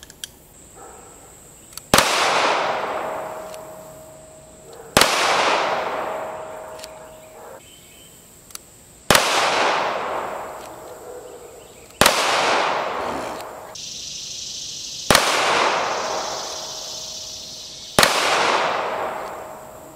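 Six sharp gunshots from a .380 Ideal Conceal cell phone gun fire one at a time, evenly spaced a few seconds apart, each a loud crack with a short ringing decay outdoors.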